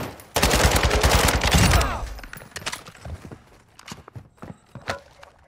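Gunfire in the Call of Duty DMZ game erupts as a dense, loud burst of rapid shots for over a second, then scattered single cracks and footstep-like thumps follow more quietly.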